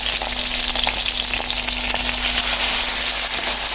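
Chira fish frying in a pan on its second side, a strong steady sizzle with faint crackling pops, close up and unbroken, no voices.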